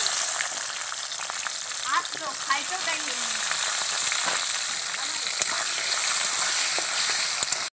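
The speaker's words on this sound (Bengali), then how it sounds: "এবার আমি এখানে ক্যাপসিকামটা ভেজে" Capsicum fries in a hot pan with a loud, continuous sizzle and crackle, joined by occasional scrapes and knocks of stirring.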